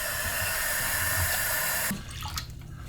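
Tap water pours into a bowl up to the fill line in a home kitchen, a loud, close, steady splashing stream that cuts off abruptly about two-thirds through, followed by faint drips and handling sounds.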